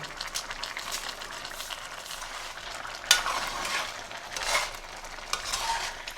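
Butter and two dried red chillies melting and sizzling in a karahi for butt chicken karahi, a steady close frying hiss with a utensil stirring and scraping through it at intervals and a sharp clink near the middle.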